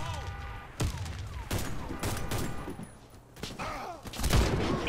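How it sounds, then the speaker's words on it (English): Sharp shots crack out in a shooter video game, several scattered bursts at uneven intervals with fairly close impacts, mixed with game mechanics and a voice talking. "We're getting shot at."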